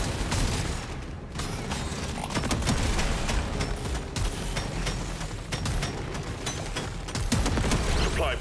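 Dense, rapid gunfire rattles on almost without pause from an upgraded gun in the video game Deep Rock Galactic Survivor, crackling bursts layered over a busy mechanical background with a few louder peaks.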